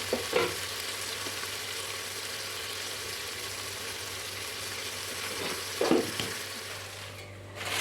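Salted onions sauté in a pan for biryani with a steady sizzle, broken twice by brief scraping stirs of a spoon against the pan.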